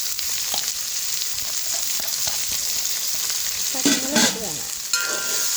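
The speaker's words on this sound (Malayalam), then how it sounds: "അത് നമുക്ക് നല്ലവണ്ണം ഇളക്കി കൊടുക്കണം." Sliced onions and green chillies fry in a pan for a green bean and chembu thoran, a steady loud sizzle with stirring scrapes toward the end and no voices.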